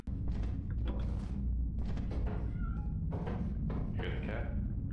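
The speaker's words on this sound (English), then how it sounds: "I heard a cat." Several short cat meows rise over a constant low rumbling drone in the video game Lethal Company, spaced irregularly across a few seconds, moderately loud and close.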